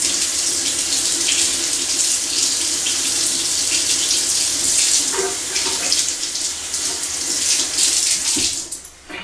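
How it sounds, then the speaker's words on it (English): Water runs steadily from a tap to rinse a pot while dyeing scooter wheels, a continuous close splashing stream that tapers off at the end. "I'm going to rinse this off because I'm not sure if it's stainless or not"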